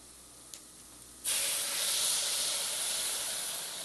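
Liquid poured into a hot pan of toasted barley bursts into a loud, steady hiss at once, sizzling and steaming close up and fading only slightly over a few seconds, with no talk.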